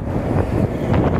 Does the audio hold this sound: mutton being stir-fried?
no